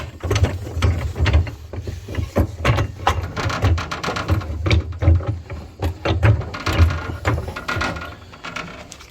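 Ratchet wrench clicking rapidly in bursts while loosening lug nuts on a John Deere 430 garden tractor wheel, with metallic rattles between strokes, close and alone.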